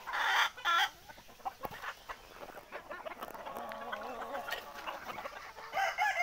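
Desi Sonali hens clucking in bursts, fairly close, with a louder flurry of squawks at the start and end and steady softer clucks between.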